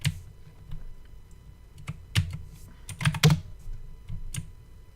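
Typing on a computer keyboard: scattered close keystrokes and small clustered bursts of clicks, fairly quiet in an otherwise still room.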